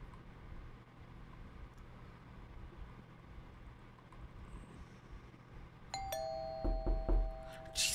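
A doorbell in the horror game Fears to Fathom: Home Alone rings out sharply and close above a quiet ambient bed, a clear tonal chime followed by a couple of further rings and a thud near the end.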